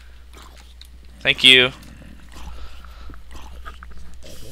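A pet puppy in a Minecraft-style game attacks an enemy, giving a short burst of growling, biting game sounds that is loud and close, followed by a brief spoken thanks and quieter background noise.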